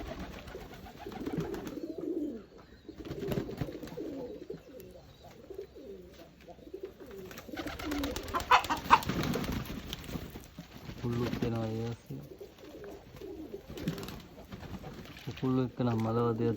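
Pigeons bathing in Sri Lanka make soft, low cooing calls alongside splashing water, with a person talking over much of the sound.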